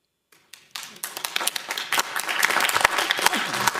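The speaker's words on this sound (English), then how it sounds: "if you can hold your applause so that we can hear the delegate" Audience at a school board meeting breaks into applause, starting from silence with a few scattered claps and swelling into steady, fairly close clapping that keeps building.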